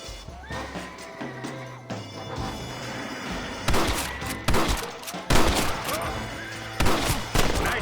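Gunfire rings out in a Red Dead Redemption shootout at a house, with several loud, sharp shots bursting out in quick clusters over a background of ambient noise.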